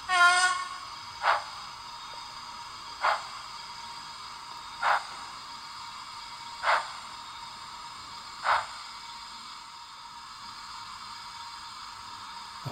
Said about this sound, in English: one whistle on number three.